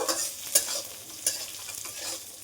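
Food fries in a pan at home while a spatula stirs it. Soft sizzling runs throughout, with several distinct scrapes and clacks against the pan at close range and no voices.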